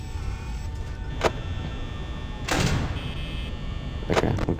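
A security door in the horror game Five Nights at Freddy's slides and clanks shut with mechanical whooshes, three bursts spread over a few seconds above a low constant hum.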